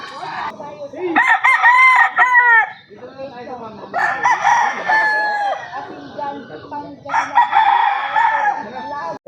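Imported gamefowl roosters crow loudly in repeated long calls, one after another, with clucking and other birds in the background at a gamefowl farm.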